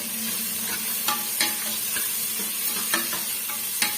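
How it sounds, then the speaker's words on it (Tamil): Onions frying in a pan for a mutton dish, a continuous close sizzle with a handful of sharp spoon scrapes and taps at irregular intervals, no voices. "சேர்த்துட்டு நல்லா வந்து வதக்கி விட்டுக்கலாங்க"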